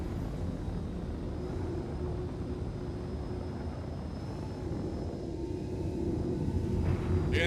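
A jet plane's engine in a flight combat video game drones steadily and evenly without afterburner, a smooth continuous hum that holds throughout.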